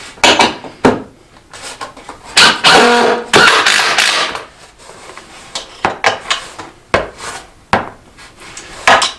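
Screws are driven into a redwood garden bed in short, sharp bursts of driver noise and clattering wood contact, repeated several times up close.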